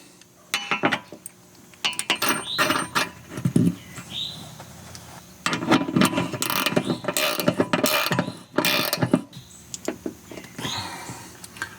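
A ratchet wrench tightens a Stablecamper tie-down drop-down extension on a 2021 Lance 975 camper, producing close, loud bursts of rapid clicking strokes with short pauses between them.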